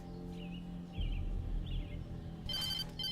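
A telephone ringing in the game Alan Wake, a short electronic trill repeating over a low hum, then a louder ring burst near the end, moderately close and with no talk.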